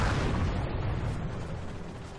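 Game explosion in Halo 3 ODST on Kizingo Boulevard, a dense, loud low rumbling boom filling the whole moment and slowly fading, with no talk over it.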